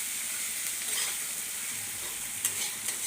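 Pieces of fish frying in a pan for a curry, a steady close hiss and crackle with occasional light stirring clicks.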